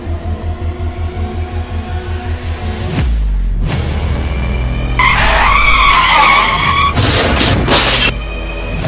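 A motorcycle ridden by an intoxicated rider chugs along, then skids with a loud rumbling scrape and a sharp tire squeal, followed by further harsh screeching bursts close by.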